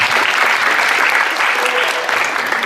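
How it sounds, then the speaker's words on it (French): A crowd at a football tournament in Paris claps steadily and loudly, dense continuous applause from many hands without a break. "On peut l'applaudir s'il vous plaît."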